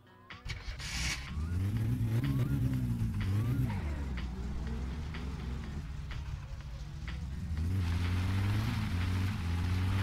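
A car engine in the My Summer Car video game starts and runs with a steady droning hum that rises as it revs, fairly loud and continuous throughout.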